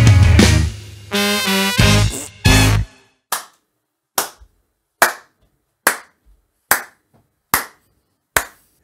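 A few people clap loudly and irregularly for a moment, then one person claps alone in single, evenly spaced, close claps that fade quickly.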